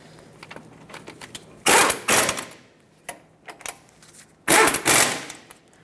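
Ratchet tightening the two caliper bracket bolts on a 2000-2005 Ford Excursion during a front brake job, heard as two loud bursts of rapid clicking separated by a pause, with softer clicks and shop noise between.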